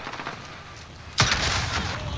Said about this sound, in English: rocket launch